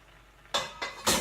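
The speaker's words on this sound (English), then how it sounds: "And stir this up" Garlic powder and onion powder being stirred into vegan fried rice in a pan: three quick, loud scraping strokes of a utensil against the pan after a brief quiet moment.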